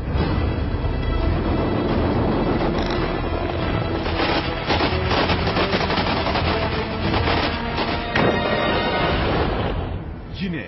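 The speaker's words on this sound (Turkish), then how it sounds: "O korkunç patlama sesi." Explosion and gunfire in the Şırnak region, a dense continuous roar of blasts and rapid shots that stays loud throughout, with voices mixed in under the din.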